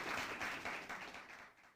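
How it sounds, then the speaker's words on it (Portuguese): Applause from a church congregation during a sermon, a dense wash of many hands clapping that swells and slowly fades over a couple of seconds, heard from a distance in a large room. "Uma salva de palmas por aquele homem."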